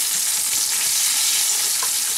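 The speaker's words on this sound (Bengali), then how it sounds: "পেঁয়াজটা একটু ভাজা ভাজা করে দেব" Chopped onions sizzle and crackle steadily in hot oil in a pan, along with bay leaves and dried red chillies, a loud, continuous frying hiss with no talking.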